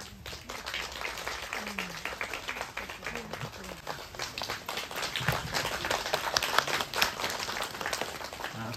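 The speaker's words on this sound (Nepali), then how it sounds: "तपाईले ताली मार्दिनु।" Guests at a wedding clap in a continuous patter of scattered hands, moderately quiet and somewhat distant, with voices talking underneath.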